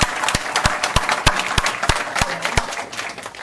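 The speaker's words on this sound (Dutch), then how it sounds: "En een hartelijk applaus." A hall audience at a hacker conference gives a speaker warm applause, with many claps close and loud and a few sharp individual claps standing out, continuing steadily throughout.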